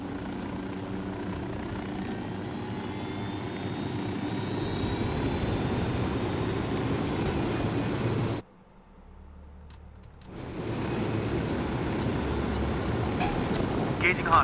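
Helicopter rotor and engine drone from the video game Ghost Recon Wildlands, a loud, steady thrum that drops out sharply for about two seconds midway, then resumes under game voices and combat sounds.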